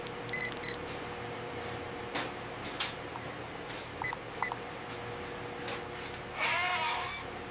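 Alpine goats bleat inside a goat processing complex, with a few short calls scattered through steady mechanical hum and a louder harmonic call near the end, joined by occasional electronic beeps from automated gates.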